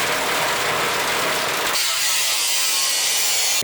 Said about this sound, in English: So I'm gonna cut the fender right here at an angle.